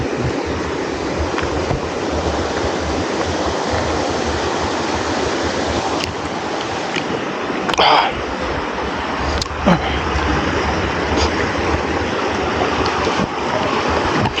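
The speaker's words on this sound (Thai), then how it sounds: "อันนี้ก็จะเป็นลำธาร" A forest stream by rice terraces in Thailand flows steadily with a continuous rushing, gurgling wash of water, loud and close, with a few brief clicks and knocks over it.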